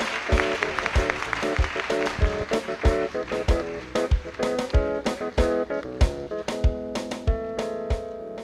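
A church congregation at a Sunday prophetic service claps in steady rhythm, sharp loud hand claps riding over sustained keyboard chords for several seconds.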